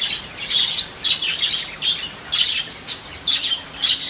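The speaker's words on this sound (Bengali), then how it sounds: "এখানে পাখি রয়েছে, দেখুন।" Birds call in a garden near a riverside building: repeated sharp chirps and squawks come in short bursts about every half second, fairly close and loud over quiet background hiss.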